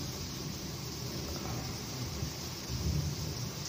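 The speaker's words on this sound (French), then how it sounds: "Vous êtes en direct de l'orage là." Thunderstorm outside during indoor model building, heard as a constant faint rumbling wash of rain and wind-like noise with a slightly stronger low swell near the end, no voices.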